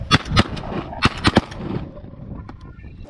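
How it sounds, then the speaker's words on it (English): Several shotgun blasts ring out during a duck hunt on a dry lake, sharp close reports in quick bursts of two and three, then fading echoes and quiet. "It took the second shot from all of us"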